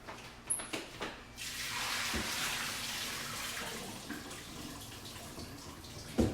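Water running from a tap and swishing in a bowl of beans being rinsed, a steady hiss of flow after a few clinks and splashes, with a knock at the end.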